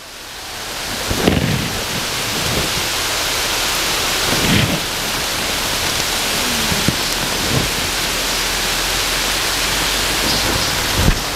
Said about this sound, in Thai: ฝนตกลงมาแล้วครับตอนนี้ครับ